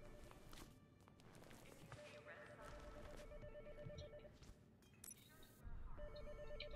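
A telephone ringing inside the video game Hitman Absolution, a steady repeating electronic ring under in-game footsteps and ambience, faint overall, with someone talking over it.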